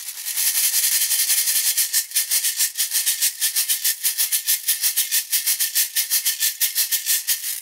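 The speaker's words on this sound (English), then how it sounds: "And it's a shaker, it's a metal tube," A mineiro, a metal tube shaker, played in a quick, steady rhythm, bright hissing pulses repeating evenly, close and alone.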